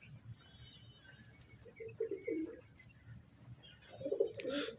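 A rooftop flock of about forty pigeons gives soft, low coos in two brief clusters, faint and close, amid light fluttering and patter with no talking.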